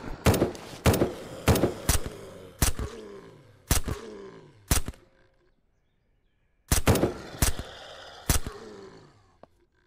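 A SurrounDead gun turret fires at zombies in loud, sharp single shots. They come in spaced bursts, each ringing out briefly, with a quiet gap midway before another volley and then silence.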